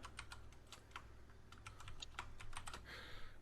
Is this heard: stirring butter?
no